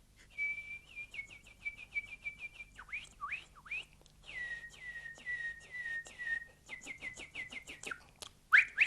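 A man whistles an imitation of a nightingale's song: close, solo warbling phrases of sustained notes, quick upward slides and rapid trills, broken by short pauses.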